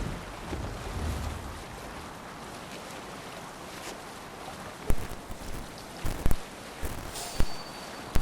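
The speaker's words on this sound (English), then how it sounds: "We can raise the sail in these waters." Sailing ship under way in Assassin's Creed, with steady wind and rushing water around the hull, then a few sharp creaks and thumps of rigging and canvas near the end; no voices.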